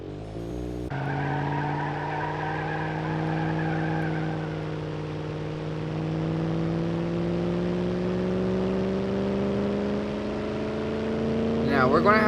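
A car in the BeamNG Drive driving game accelerates, its engine tone climbing steadily and smoothly for several seconds as a loud, sustained hum that rises in pitch throughout, with no talk over it.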